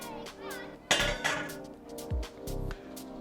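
Cooked, drained macaroni elbows are tipped into a bowl, producing a few clattering knocks and clinks of dish and utensil, with a soft thud or two between them close up.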